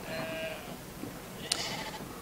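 A sheep in a video game gives a single short bleat over soft ambient game sound and low background noise.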